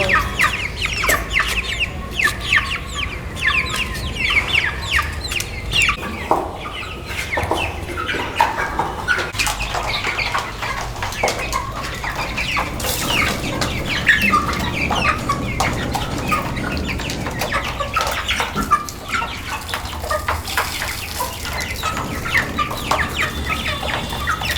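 Several chickens cluck and squawk steadily at close range inside a mosquito net on a Bangladeshi homestead, their calls overlapping throughout with busy bird chatter and no talk.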